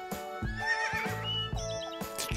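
A horse neighs loudly and close by in a long, wavering whinny, with the soft clatter of hooves between calls and no talking.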